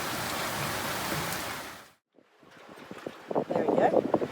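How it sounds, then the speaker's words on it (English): A heavy rain squall pours down on a sailboat crossing the South Pacific, a dense hiss that drops out briefly before returning with pattering drops and voices speaking over it. "Another squall. This is a rainy one."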